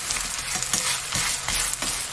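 A Korean zucchini pancake (hobak-jeon) of thick flour batter is turned over in a hot pan and keeps frying, with a steady bright sizzle and a few soft scraping taps from the spatula, close and continuous.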